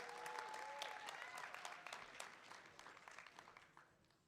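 Applause from a crowd at Blade Show West, a knife show, for a flipper knife judging, steady clapping that slowly fades, picked up faintly and at a distance.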